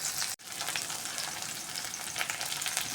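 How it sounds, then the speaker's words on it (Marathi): Mustard seeds, curry leaves and spices tempering in hot oil, a dense, steady close sizzle and crackle with a brief gap near the start, loud and continuous without any talk. "फोडणी करणार आहे आपण. थोडासा कढीपत्ता पण घालणार आहे."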